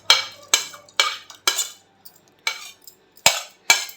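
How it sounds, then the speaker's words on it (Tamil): A knife chops tender coconut flesh finely for coconut payasam, making crisp, close chops at a steady pace of about two per second, with no voices. "பொடியாக கட் பண்ணி எடுத்துக்கோங்க"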